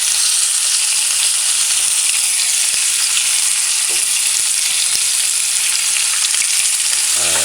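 Chicken wings fry in a pan for a brown stewed flour-fried chicken, giving a steady, loud sizzle and crackle throughout with a few faint clicks and stirring touches, no talking.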